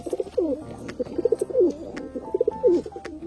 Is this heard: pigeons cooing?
yes